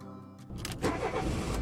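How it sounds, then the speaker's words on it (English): A motorhome engine in the Highway Blossoms video game cranks and catches after a key turn, a short quiet lead-in giving way to a loud, steady running rumble. "The motorhome grumbles as I turn the key, but the engine catches."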